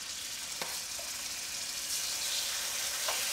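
Deer meat sizzles in a hot pan, a steady loud frying hiss filling the whole stretch with a couple of faint clinks from utensils.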